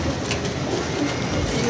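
Pigeons released from a loft, their wings fluttering in a continuous, loud rush of close flapping and rustling with no voices, lasting under two seconds.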